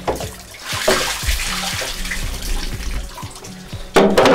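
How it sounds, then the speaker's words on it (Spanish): Running tap water pours steadily into a bath where gelatin photogravure paper is being rinsed, with soft splashes and a louder gush of water near the end. "Un baño con agua de la llave."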